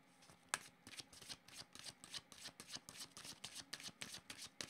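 A deck of tarot-style reading cards is shuffled by hand, a quick run of soft riffling flicks and slaps in a steady rhythm, close and quiet, with no talk.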